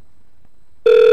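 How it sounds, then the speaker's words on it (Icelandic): A telephone starts ringing abruptly after a near-silent moment, with a loud, steady electronic tone that sounds close. "Síminn? Alltaf gott að fá símann."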